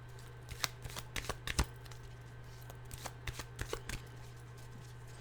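Journey of Love oracle cards are shuffled by hand in quick riffling bursts, soft and close, with short gaps between the shuffles over a faint steady hum.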